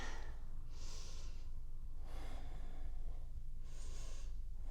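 Audible breathing during a vinyasa yoga flow, with a few airy inhales and exhales spaced about a second apart, close and fairly quiet over a steady low background hum.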